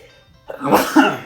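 A single close sneeze bursts out after a brief quiet moment, sharp and loud, ending in a short exhale.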